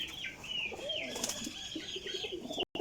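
A pigeon close by gives short, soft throaty coos, with a flutter of wings and faint rustling in the background.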